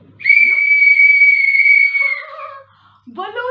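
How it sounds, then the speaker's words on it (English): A child blows a toy whistle in one long, loud, steady shrill tone lasting about two seconds, then lets it trail off, followed by a short burst of excited vocalising. "Balu's blowing the whistle"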